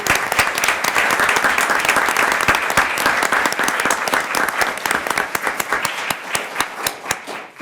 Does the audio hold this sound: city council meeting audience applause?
yes